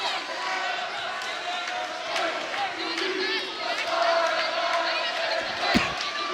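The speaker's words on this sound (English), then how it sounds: "the crowd really getting into it" A crowd cheers and shouts in a gym during a high school volleyball match between Northshore and Slidell, with a lively, echoing mix of voices, scattered thuds and a sharp slam near the end, and an announcer talking over it.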